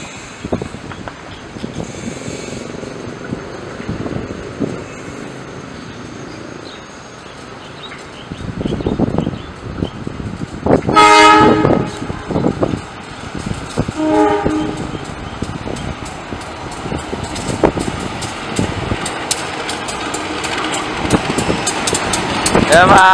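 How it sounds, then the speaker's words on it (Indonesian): The Bandung Raya local train pulls into a small station from the Padalarang direction, with rumbling wheels and one loud horn blast midway, amid station noise and faint voices. "Kereta api lokal Bandung Raya tiba dari arah stasiun Padalarang."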